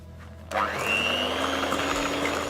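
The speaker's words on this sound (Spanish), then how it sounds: "Ahora vamos a empezar a batir esto a velocidad media" A kitchen electric mixer beats butter and vanilla extract at medium speed for a gluten-free polenta cake, starting abruptly after a quiet moment, then a steady, close, loud whirring drone with a rising pitch as the motor settles.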